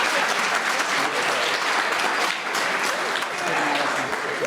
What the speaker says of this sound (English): Can you clap her up?